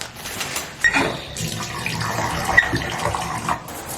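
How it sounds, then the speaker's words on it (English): Shower water runs steadily in a bathroom, a continuous hissing splash with a few brief clunks and surges, close and fairly loud, with no talking. "I'm gonna get in the shower."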